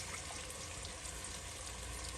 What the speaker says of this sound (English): We're going to add about a cup of water to the bowl.